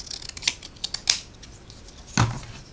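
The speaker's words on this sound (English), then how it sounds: "I'm just going to run my scissors right down the middle" Scissors snip through paper down the middle for a butterfly bouquet craft, a few sharp close cuts spaced apart with one louder crunching cut near the end, no talking.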